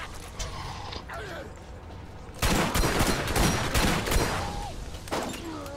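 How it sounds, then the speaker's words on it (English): Enemy gunfire in the video game Borderlands, scattered shots and then a heavier sustained volley of firing mixed with game effects, with a voice talking over it. "he's shooting at me right now and he's missing"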